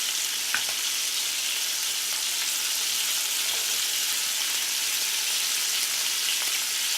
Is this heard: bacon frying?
yes